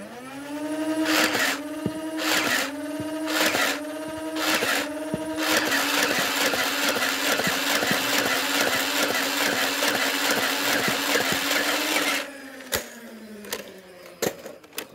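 A Nerf Ultra Q-Strike blaster fires a big burst, starting with rhythmic whirring pulses that merge into a loud continuous motorised whine and rattle, then winds down, with a few sharp clicks after.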